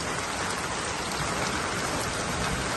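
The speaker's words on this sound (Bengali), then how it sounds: "বৃষ্টির পানিও ধরে রেখেছি খাওয়ার জন্য, এবং বৃষ্টির পানি ধরে রেখেছি।" Steady heavy rain pours down on a garden house during a rainy Eid, a dense, even hiss of drops striking surfaces, close and constant with no voices.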